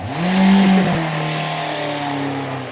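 A Yamaha motorcycle engine revs up hard and then settles into a steady, high-pitched drone, close and loud, with no voices.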